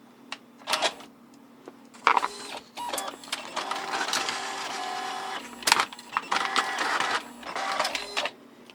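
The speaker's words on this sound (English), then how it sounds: "If we press this, it should feed a sheet through, or at least start to." An Epson Stylus Photo 750 inkjet printer whirs and clicks in bursts, motors starting and stopping with a mechanical hum as a sheet of paper feeds through, close and fairly loud.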